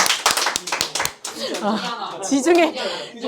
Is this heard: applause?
yes